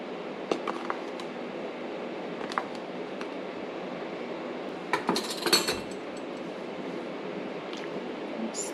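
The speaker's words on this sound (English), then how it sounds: "We're going to add 4 tablespoons of this wonderful chili powder." A spoon taps and clinks against a pot or jar a few times while chili powder is added to a venison chili soup, with soft scattered clicks and a busier cluster of clinks partway through, over a quiet kitchen background.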